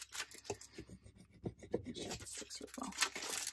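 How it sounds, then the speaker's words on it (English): A spatula rubs transfer tape down onto craft vinyl, with quiet, close, scratchy rasping strokes repeated in an uneven rhythm, faint and alone. "give it a nice good rub with my spatula here"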